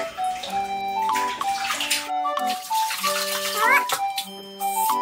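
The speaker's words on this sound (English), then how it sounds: "Ayan, shower muna siya." Water running steadily for a child's shower in a home bathroom, a continuous spray hiss layered under music playing nearby.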